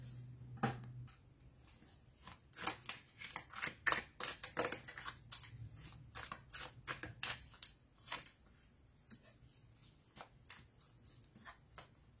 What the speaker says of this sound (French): Alors, je vais ranger les cartes.